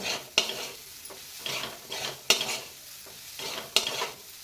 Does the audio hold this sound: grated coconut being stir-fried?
yes